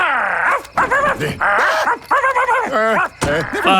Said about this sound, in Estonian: Väljas on koer.